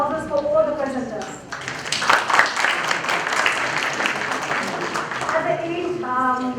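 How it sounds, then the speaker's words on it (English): Audience applause for conference session presenters breaks out between stretches of someone speaking, a full round of clapping in the middle with talk before and after. "let's have a big round of applause for all the presenters."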